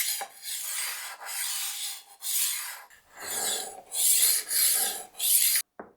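Kitchen knife drawn across the fine 1000 grit diamond disc of a rolling knife sharpener, giving a steady rasping scrape in repeated strokes of about a second each, close and clear.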